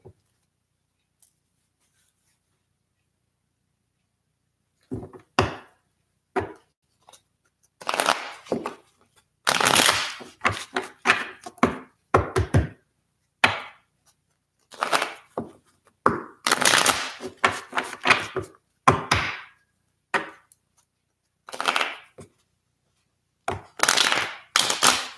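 Tarot cards are shuffled by hand in short crisp rustling and snapping bursts separated by quiet pauses, close up, with no one talking.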